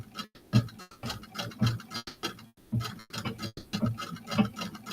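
A sewing machine runs in short rhythmic bursts, its needle ticking and thumping quickly and close by, stopping briefly between runs of stitching.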